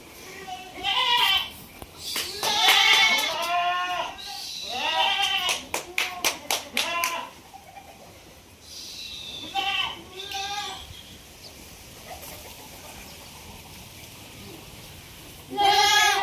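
Several local goats in an enclosed goat farm bleat repeatedly, some calls close and loud, others farther off, with sharp claps or clatter in between and people talking at times.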